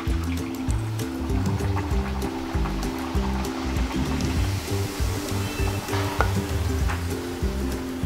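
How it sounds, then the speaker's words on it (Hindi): Pooris cut with a glass fry in hot oil, a continuous bubbling sizzle under a steady low background hum, with a few scattered clinks and spatters. "अब उसको हम फ्राई कर लेते हैं।"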